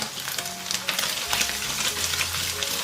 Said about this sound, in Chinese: 炒香了之后加入蒜末，还有辣椒圈